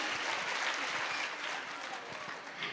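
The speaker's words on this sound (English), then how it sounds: "Clapping, please parents clapping." Parents clap together at a school annual function, a steady, even wash of applause that holds for a few seconds at moderate distance without a break.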